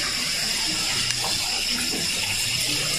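Steady, loud rush of running water, like a tap or hose gushing continuously, close by with no pauses.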